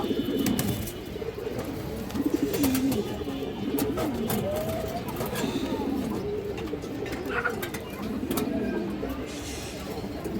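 Chuina pigeons, a white pair, cooing in a loft with several overlapping throaty coos rolling on over a dense, noisy background of other birds and faint clatter.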